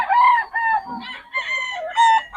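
Several three-year-old roosters crow close by in overlapping, drawn-out calls, one after another, loud and clear with little background noise.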